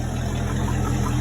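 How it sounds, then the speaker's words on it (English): A Chevrolet 283 V8 boat engine runs steadily on a test setup during timing adjustment, a loud, even idle with a regular low pulsing rhythm and no voices. "running the engine and making sure it's ready to go back in your boat"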